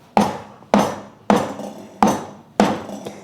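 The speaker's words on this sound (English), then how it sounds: "It's probably about 1/2 ounce, and I'm just going to bruise this one." A small piece of ginger, about half an ounce, is bruised with five sharp, evenly spaced thuds on a cutting board, loud and close, each strike fading quickly.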